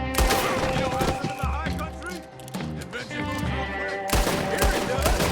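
Gunfire in Red Dead Redemption 2 breaks out in a loud, dense fusillade of rapid shots and bursts throughout, overlapping with character voices.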